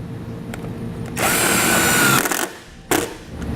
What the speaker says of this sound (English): We'll connect our ground wire using the self-tapping screw provided in the kit and a 1/4-inch socket.